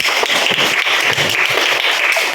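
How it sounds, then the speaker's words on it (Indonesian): Classroom students clap together in a steady, dense burst of applause that stays loud and continuous throughout, with no talking. "kita berikan tepuk tangan"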